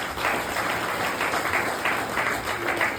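Loud, sustained applause from a seminar audience at an RCM business event in Kanpur, dense steady clapping filling the room throughout with no pauses.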